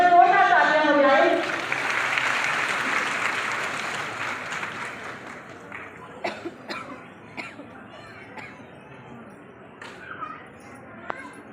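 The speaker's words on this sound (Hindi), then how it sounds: "एक बार जोरदार तालियां हो जाए।" Audience applause at an Indian public event, dense clapping for the first few seconds that fades into scattered claps, coughs and faint murmuring voices.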